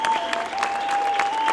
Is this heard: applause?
yes